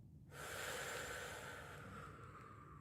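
A slow, drawn-out breath during a glute exercise starts abruptly after a brief silence, then holds as a long, airy, close exhale that tapers gently toward the end, with no talk.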